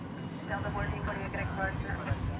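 A Qatar Airways airliner arriving from Doha taxis at DFW Airport, heard as a steady, distant low engine rumble with muffled voices over it.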